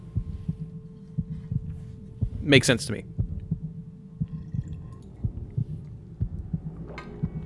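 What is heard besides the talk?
Geralt's heartbeat in the video game The Witcher 2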